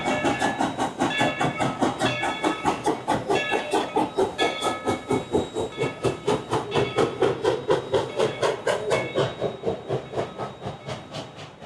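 Dollywood amusement park train ride on a freezing December day, with a steady rhythmic chuffing of a steam locomotive running close by, carrying on without pause under faint tonal whistle-like overtones.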